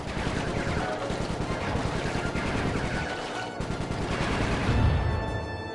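Rapid bursts of gunfire in Sly 3 rattle close and loud in repeated volleys, like machine-gun fire, with a heavier blast near the end and game voices mixed in.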